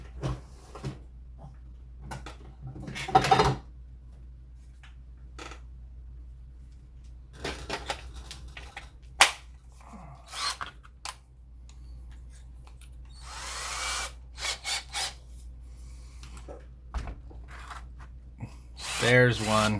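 Short bursts of a power drill whir on and off between quiet gaps during a Miranda Hornet boat refit, mixed with clatter and rustling of tools being handled.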